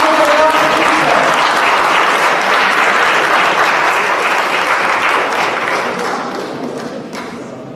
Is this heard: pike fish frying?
no